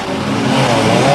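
A small Fiat banger car in a 1998 demolition race at Ringwood Raceway, its engine revving loudly and close by in one brief, continuous mid-pitched growl.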